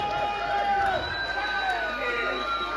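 A crowd at a kabaddi final cheers and shouts with a steady, dense roar throughout, close and fairly loud, while a voice talks over it.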